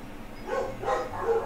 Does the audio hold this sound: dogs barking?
yes